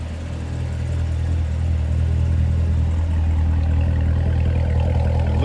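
A 2015 Corvette Z06 sits running nearby, its engine a deep, steady rumble that swells slightly partway through, heard alone and fairly loud without any talking.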